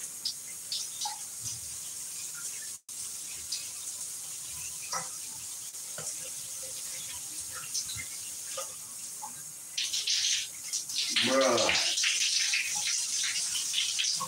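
Water from a very small shower runs in a steady, close hiss throughout, with a brief louder splashing surge near the end and no talking.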